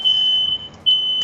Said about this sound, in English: you might hear a smoke detector in the background